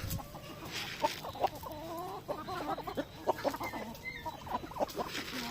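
Native chickens cluck and chatter close by while pecking at cracked corn, with repeated short calls rising over a steady farmyard background.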